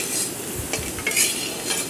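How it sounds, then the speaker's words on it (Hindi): Browning onions with spices sizzle softly in a pan while a spoon stirs and scrapes through them, giving a few close clinks over a steady frying hiss. "तो ये देखिए प्याज ब्राउन हो रहा है"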